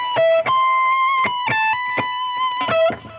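Distorted electric guitar plays a melody of short picked notes and held bends, with delay and reverb leaving tails under each attack.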